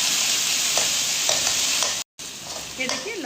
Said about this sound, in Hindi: मिर्चों को थोड़ा सा हम इसके साथ फ्राई करेंगे।